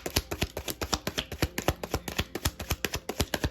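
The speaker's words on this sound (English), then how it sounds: "One shuffle, please." A deck of tarot cards is shuffled by hand in quick, even riffles, with about two dozen crisp close-up flicks over nearly four seconds and no voices.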